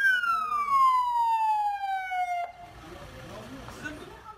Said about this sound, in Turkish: Ambulans yolu açsın diye dakikalarca siren çaldı.